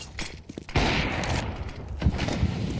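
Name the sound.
grenade explosion in a Counter-Strike video game match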